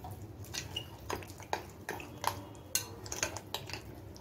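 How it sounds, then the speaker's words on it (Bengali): A spoon mixing boondi raita ingredients in a bowl: quiet, irregular clinks and scrapes against the bowl with a wet stirring sound, close and faint. "এখন আমি সবকিছু ভালো করে মিশিয়ে নিচ্ছি।"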